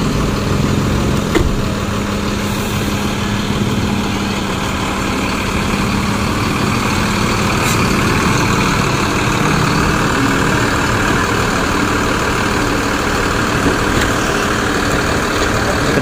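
A new SR3 Discovery bus on a Mercedes 162 chassis idles loudly and steadily at close range as it sets off, its heavy engine holding a constant low rumble throughout.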